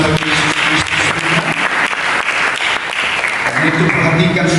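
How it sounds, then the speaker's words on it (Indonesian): A church congregation breaks into loud, sustained applause, dense overlapping claps filling the room throughout, with a voice faintly mixed in. "Mari kita berikan tepuk tangan bagi Yesus Kristus."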